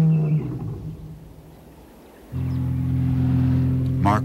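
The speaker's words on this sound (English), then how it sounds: "Mark will try to locate the lion from the air" A deep, rumbling lion roar swells up and holds steady at close range after a quieter stretch of open-air ambience.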